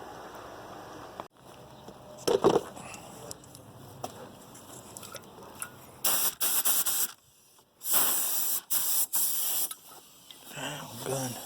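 A paint spray gun sprays clear coat in loud bursts of hissing spray, some long and some short, separated by quiet pauses and small handling clatter.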